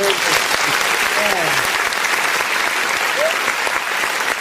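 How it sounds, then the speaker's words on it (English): Dense, sustained applause from a crowd fills the whole stretch, with a few voices faintly audible through the clapping. "And Elvis, if we please give Mommy Diaspora a round of applause."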